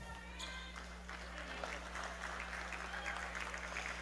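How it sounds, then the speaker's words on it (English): Crowd applause in a large indoor arena at a girls' high school basketball game, a sustained wash of clapping and cheering heard at a distance under a low steady hum. "It's a big round of applause from the St. Anthony fans."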